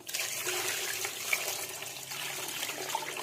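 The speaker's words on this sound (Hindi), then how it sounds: "इसके अंदर मैं ऐड करूंगी पानी।" Water pours steadily into a cooking pot with ginger, garlic and onion for beef yakhni pulao, a continuous soft splashing gush heard close up with no talking.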